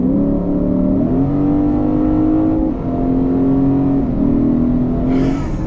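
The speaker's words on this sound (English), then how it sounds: "Oh, I love that engine sound." A 2024 Lexus IS500's 5-liter V8 revs loud and close throughout, with a deep rumble that climbs through the rev range, dips and rises again, and ends with a brighter surge.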